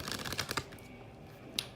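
Oracle cards are shuffled in a quick run of crisp riffling flutters and taps, fairly close but soft, then a lull with a single sharp flick near the end.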